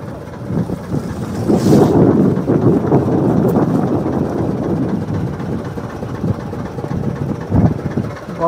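Strong wind at sea rushes past a rocking fishing boat out for dol-net fishing, a loud, steady low rumble of buffeting gusts with no voices.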